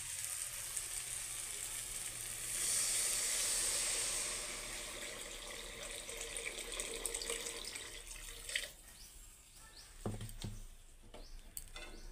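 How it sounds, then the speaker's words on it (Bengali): Water pours from a tap or jug into a pan of egg curry on the stove, a steady hissing stream for a couple of seconds, then quieter kitchen clatter and a few sharp knocks of utensils. "তো এটাকে আমি এখন জল দিয়ে দেব।"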